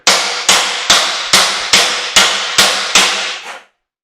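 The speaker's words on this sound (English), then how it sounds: "That would be the hammer." Eight sharp metallic hammer strikes on an aluminum ladder land at a steady, even pace, each ringing briefly before the next, loud and close.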